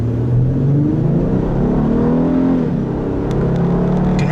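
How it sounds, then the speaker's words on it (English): A 2010 Acura ZDX with Honda's 3.7 V6 revs and pulls under acceleration, a smooth continuous engine drone that rises and dips in pitch, heard from inside the car. "The engine makes a really nice sound."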